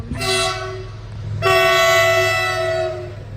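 Freight train horn blasting near a station on a line through Ludhiana, Punjab: two long, loud, steady tones, the second starting about halfway, over a low rumbling engine drone.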